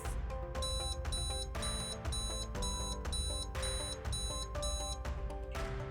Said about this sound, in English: There is an audible alarm that will sound if the power is off.